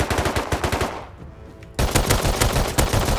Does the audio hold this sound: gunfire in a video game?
yes